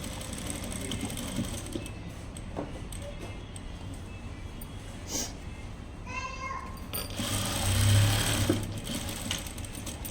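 A sewing machine top-stitching a child's top whirs in short runs with mechanical ticking between them, close and soft, while a person talks quietly over it.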